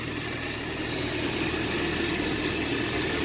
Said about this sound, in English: The engine's running good.